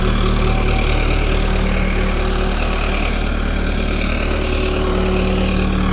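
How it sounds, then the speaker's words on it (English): A Case 580E Construction King backhoe tractor, a Super E working with its stabilizer legs down and weights on the front, runs steadily at close range, its diesel engine droning loud and continuous throughout with no talk. "So that's a Super E working with its legs down."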